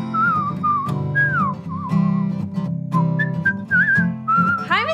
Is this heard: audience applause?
no